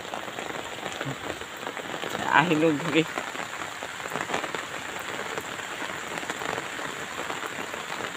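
Steady rain patters on a surface throughout, with a brief spoken phrase partway through.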